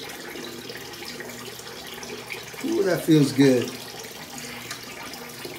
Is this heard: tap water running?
yes